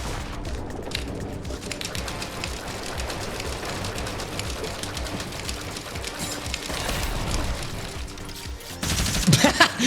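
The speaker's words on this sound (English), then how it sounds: "having a mythic minigun and reload is so much fun" Rapid, sustained automatic fire from a mythic minigun in the Fortnite video game, loud and continuous throughout, with a denser burst near the end.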